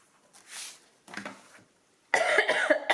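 A few separate coughs, close and fairly loud, with short pauses between them, ending in a harsher, longer coughing burst.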